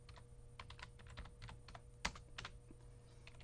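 Fast typing on a computer keyboard, a quiet run of light key clicks with one sharper tap, over a steady low background hum.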